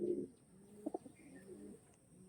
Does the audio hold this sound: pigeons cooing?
yes